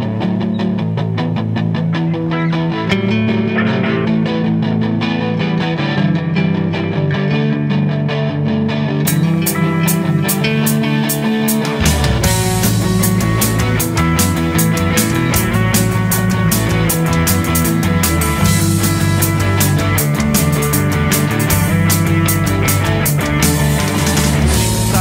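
A live rock band plays an original song in a studio, with dense sustained guitars and keys that build into a full, loud band section with driving drums about halfway through.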